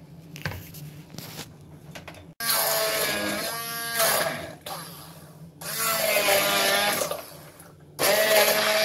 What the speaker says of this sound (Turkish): Ve şimdi mikserle bunu karıştıracağız.